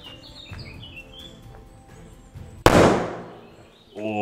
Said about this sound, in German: Auch wirklich sehr, sehr schöner Böller.